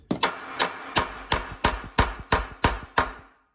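A vintage Snap-on hammer strikes a socket on rusty exhaust nuts, about nine sharp metallic blows at a steady rhythm, each followed by a lighter rebound tap, close and fairly loud.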